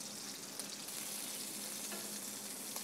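Garlic cooking in a pan with butter, brandy and lobster stock, a quiet continuous sizzling hiss with faint stirring ticks, low in level and without voices.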